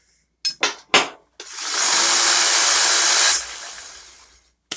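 A knife-making grinder spins up after a few sharp knocks, runs for about two seconds as a loud steady hissing whir, then cuts off and winds down.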